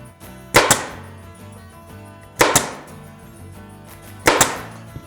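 A staple tool fires three times while a seat cover is fitted on a BMW R1300 GS Adventure motorcycle seat, each shot a sharp, close snap with a quick double report, spaced about two seconds apart in a quiet room.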